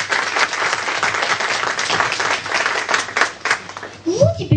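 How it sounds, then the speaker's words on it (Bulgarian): Audience applause for Zhuzha, a young reciter about to perform a poem, a dense burst of clapping that holds steady and then fades as a voice begins near the end. "Аплодисменти за Жужа!"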